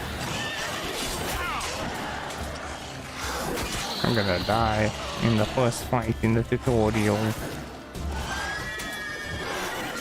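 A horse in The Witcher 3 neighs loudly in a long, shaky whinny near the middle, over game sounds, while someone talks before and after.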